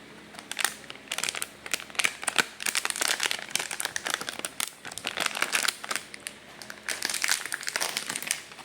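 Crinkling and crumpling of plastic and paper packaging as a new PisoWiFi board bought online is unwrapped, a busy run of close rustles and crackles with no talking.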